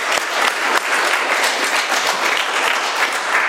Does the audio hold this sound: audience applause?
yes